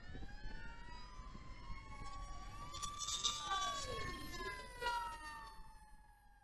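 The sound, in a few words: fire truck siren passing by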